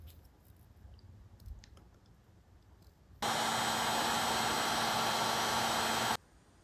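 A heat gun blows a steady, loud roar for about three seconds while shrinking heat shrink tubing over a wire on a Dewalt die grinder, after a stretch of quiet workshop handling clicks, then cuts off abruptly.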